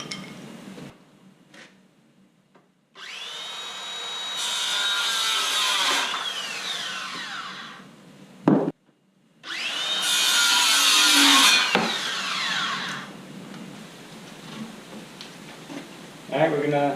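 Wooden tips being sawn off while building a skate kicker ramp: two long, steady rasping saw bursts, close and fairly loud, separated by a short pause.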